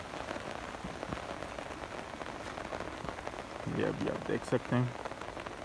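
Steady monsoon rain patters down in a village, a dense even hiss near and all around, with someone talking briefly over it toward the end.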